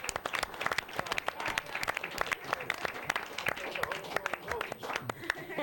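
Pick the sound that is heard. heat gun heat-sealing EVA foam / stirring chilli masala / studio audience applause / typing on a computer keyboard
studio audience applause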